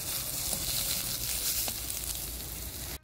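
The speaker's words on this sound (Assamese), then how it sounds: "মাংসখিনি ধুনীয়াকৈ ভাজি ল'ম, তেল ওলাই দিম।" Pork fries in its own rendered fat with no added oil, giving a close, continuous sizzling hiss and crackle that stays loud and then cuts off abruptly at the end.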